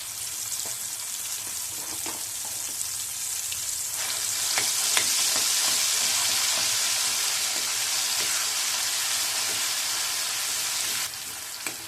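Gravy paste with a pinch of asafoetida fries in oil over a low gas flame, a steady, close sizzle that swells slightly partway through and continues evenly, with no voices.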